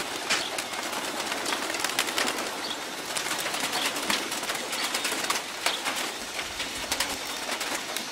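Racing pigeons coo continuously in a crowded loft, a dense layer of overlapping calls with occasional soft wing flutters, fairly close and with no voices.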